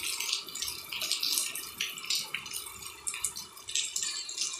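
Heavy rain pours outside a home, with water splashing and rattling in an uneven, irregular patter, fairly soft and close, with no one speaking.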